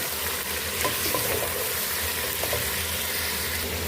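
Chicken and masala fry in a pan for Lahori murgh cholay, a constant, close hiss of oil with faint stirring scrapes and no speech.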